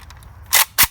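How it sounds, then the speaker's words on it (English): A loaded magazine rocked into a firearm: two sharp, loud metallic clacks in quick succession, close up, with no talk. "To reload the weapon, have a loaded magazine. Rock it in."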